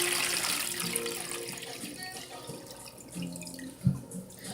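Water kefir pours and trickles steadily through a strainer into a container, with small splashes and a brief louder slosh near the end.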